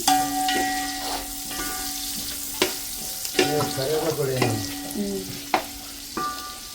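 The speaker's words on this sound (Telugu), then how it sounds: "మనకి ఆనియన్స్ చక్కగా గోల్డెన్ బ్రౌన్ కలర్ వరకు ఫ్రై అయిపోయినాయి" Onions and green chillies frying in a pan until golden brown for a home-style chicken pulao: an even, close sizzle with occasional spatula clinks and bursts of stirring, with no voices.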